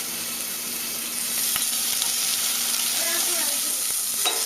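Sliced onion and a garlic clove frying in a pan, giving a steady, bright, hissing sizzle that grows slightly louder partway through, with a few faint clicks; no one talks.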